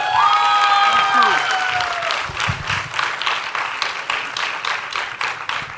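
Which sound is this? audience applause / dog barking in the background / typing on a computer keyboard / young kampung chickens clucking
audience applause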